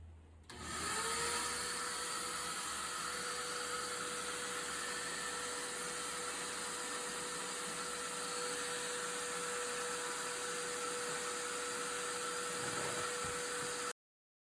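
A pet force dryer starts up and blows steadily during the grooming of a doodle dog, a constant whining roar with a sustained tone that holds evenly for about thirteen seconds and then cuts off abruptly, with no voices.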